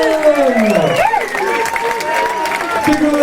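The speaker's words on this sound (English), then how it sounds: "Big round of applause for our runner-up." Boxing-style event audience applauding the runner-up, a dense burst of clapping and crowd noise under a loud announcer's voice.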